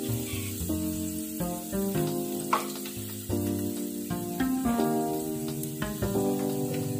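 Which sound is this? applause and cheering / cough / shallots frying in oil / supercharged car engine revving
shallots frying in oil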